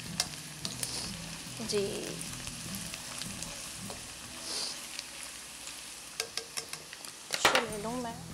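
Chopped garlic and onion fry and sizzle steadily in a pan for white biryani, with scraping stirs and a few utensil clinks, and someone speaks briefly over the frying.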